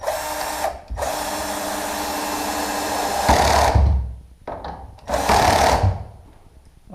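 A power screwdriver whines in close bursts while driving two self-tapping screws into a door hinge on an outdoor fridge, with a long run, a short pause, then two more bursts, the last dropping in pitch under load.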